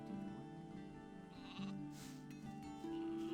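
Sheep bleat in a fantasy role-playing game set in the city of Corinus, with a few drawn-out bleats rising over a steady bed of game music and ambience.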